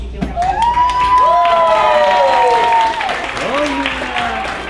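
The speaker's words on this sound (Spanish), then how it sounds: "Y quiero darle la bienvenida a la presidenta de Canadá, a Sonia Murphy, así que un aplauso." At the opening gala of a national professional excellence awards ceremony, an audience breaks into sustained applause with cheers and whistles rising over it, loud and continuous before easing slightly near the end.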